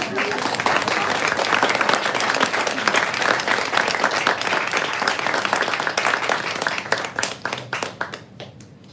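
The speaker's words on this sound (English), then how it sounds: "Can we applaud again?" A poetry-reading audience applauds loudly and steadily in a dense wash of many hands, thinning toward the end into scattered separate claps.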